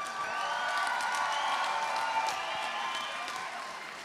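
A crowd at a fight event applauds and cheers steadily, a dense wash of clapping with scattered whoops that holds at an even level before easing slightly at the end.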